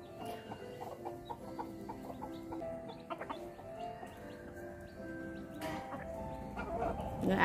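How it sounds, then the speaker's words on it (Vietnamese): Several free-range black Silkie chickens clucking and chattering softly in a flock, with scattered short calls over a busy farmyard background. "Gà ác của nhà mình nuôi nè cả nhà."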